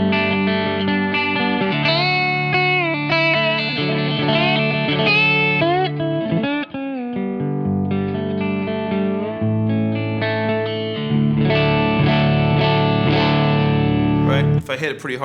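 Lap steel guitar on a clean tone through an 18 watt Plexi amp with a little reverb and delay, sustained sliding chords and melodic lines played close and continuously, with smooth glissandos between notes.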